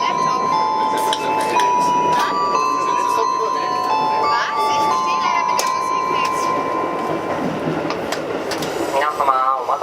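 A JR Central onboard chime plays aboard the Series 85 limited express Hida No. 20 to Nagoya after leaving Toyama, a clear melodic tone sequence over steady train running noise.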